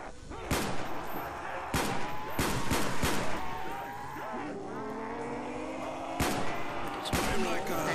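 Gunfire in Call of Duty Black Ops Zombies on the Der Riese map, sharp loud single shots spaced irregularly over steady game background noise and engine-like drone.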